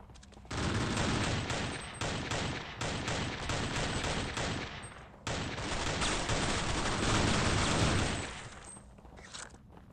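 Rapid, dense bursts of automatic shotgun fire in Counter-Strike on the original Xbox, loud and near, pounding almost without break for about eight seconds, with a brief gap midway and no talk.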